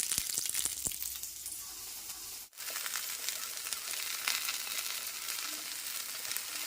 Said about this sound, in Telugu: లైట్గా కొద్దిగా ఆయిల్ వేసుకొని ఇవైతే ఫ్రై చేసుకోవాలి.